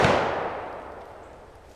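A single rifle volley fired on command as a funeral salute: one sharp, loud crack close by, then a long echoing decay that fades over about a second and a half, with no voices.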